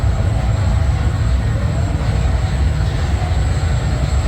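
Amusement park train ride at Gold Reef City, a steady loud low rumble of running wheels with a faint high whine on top, continuous throughout with no talking.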